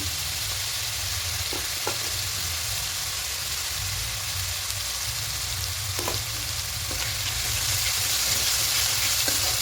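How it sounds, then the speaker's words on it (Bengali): Ginger and green chili paste fries in hot oil in a pan for a fish curry, giving a loud, constant sizzle with occasional scraping stirs, swelling slightly near the end; no voices. "এবার দেবে এখানে আদা আর কাঁচা লঙ্কা পেস্টটা"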